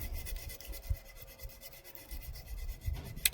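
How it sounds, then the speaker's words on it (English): A small abrasive file cleans metal parts from an old Lister engine found in a barn. Quiet, close scraping strokes repeat in an uneven rhythm, with no talking. "You might think I'm over cleaning these, but no, this is not very abrasive, these little file things."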